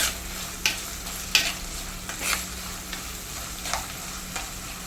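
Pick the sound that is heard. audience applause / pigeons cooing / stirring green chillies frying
stirring green chillies frying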